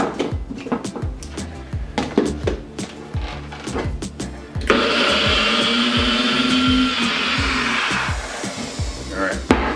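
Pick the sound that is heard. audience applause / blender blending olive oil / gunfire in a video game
blender blending olive oil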